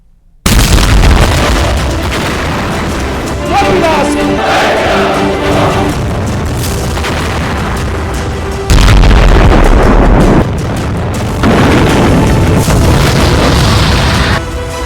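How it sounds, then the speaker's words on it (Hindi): A relentless series of heavy, booming explosions from Israeli strikes on Hezbollah in Lebanon, loud and close, rumbling continuously with sharper bursts layered on top and no pause between them. "पंद्रह भीषण धमाके,"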